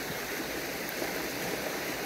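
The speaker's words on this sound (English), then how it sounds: "Water washing down the mountain." Steady rushing water running down a mountain, a continuous broadband roar like a fast mountain stream, close and even throughout.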